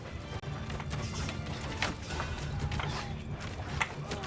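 Horse hooves clip-clop steadily in a Bannerlord battle, a dense continuous patter of many mounts close by with creaks and clatter layered over it, loud and unbroken throughout.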